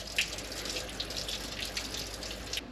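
Coolant pours from a disconnected hose on a Ford Focus Mk3 TDCI during a thermostat replacement, a steady close splashing stream with small spattering accents, continuous and fairly quiet, with no one talking.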